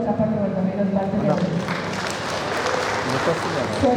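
At a BRS party meeting in Maheshwaram mandal, a voice speaks briefly over the PA before the audience breaks into sustained, dense clapping that carries on to the end.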